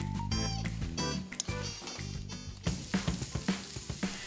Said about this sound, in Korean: 장모님이 부침개를 준비하시는 동안 장인어른은 삼겹살을 굽고 계십니다